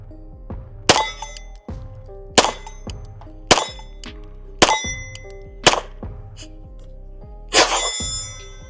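Ten sharp, loud gunshots from a non-ported Canik pistol ring out at a steady, unhurried pace, each a hard metallic crack with a ringing tail, with no talking between them.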